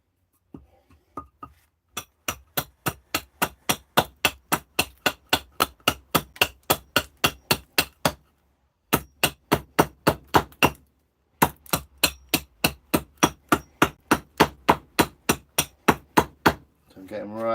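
An axe chops into a big piece of wood in a long run of sharp, evenly spaced strikes, close and loud, with two short breaks between bursts.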